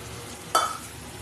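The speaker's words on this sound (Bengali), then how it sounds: "দিয়ে আমি এর সাথেই নেড়ে চেড়ে কষিয়ে নেব" A single short scrape of a spoon stirring stinging catfish with onion, garlic and spices in a frying pan, rising briefly over a quiet background hum.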